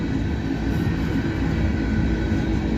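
A CSX freight train hauling coal toward a power plant in Georgetown, South Carolina rumbles past as a steady, loud, continuous roar with heavy low-end rolling noise throughout.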